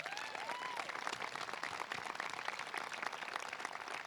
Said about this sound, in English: And now if you could please join me in a round of applause for my advisors.